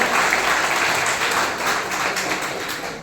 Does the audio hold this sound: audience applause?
yes